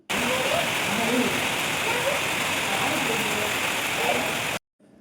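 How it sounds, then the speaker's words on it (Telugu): Heavy rain pours steadily on surfaces outdoors in Nellore during a week of downpours, a dense continuous hiss that stops abruptly near the end; faint voices are barely audible beneath it. "ఫుల్ వర్షాలు పడుతున్నాయండి."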